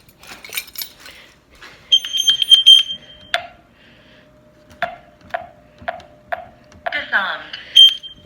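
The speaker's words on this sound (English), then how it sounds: "let me turn off this stupid alarm" A household alarm sounds in short high electronic beeps, then a run of chirps as it is being switched off, fairly close, with a person talking in between.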